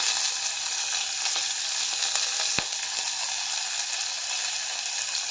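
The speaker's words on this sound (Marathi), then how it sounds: "मोहरी तडतडायला लागली त्यानंतर जिरे घालते अर्धा चमचा त्यानंतर हिरवी मिरची कांदा कढीपत्त्याची पानं" Mustard seeds, cumin, green chili, onion and curry leaves sizzle in hot oil in a pan for an aloo matar pulao, giving a steady loud frying hiss with a few sharp pops and crackles close up.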